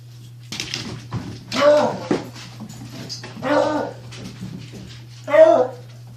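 Puppies at play give several whimpers and high yips in three short bursts, close by, over a steady low electrical hum with some faint background voices.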